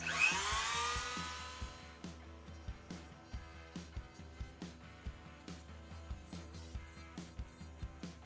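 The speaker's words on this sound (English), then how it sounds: "I'm gonna actually use a Dremel to sand and trim those little pieces that wouldn't quite let it fit." A Dremel rotary tool sands and trims small plastic pieces of an F150 overhead console switch panel. It starts with a sustained high whine, then drops to a quieter hum with short, rhythmic grinding bursts about twice a second.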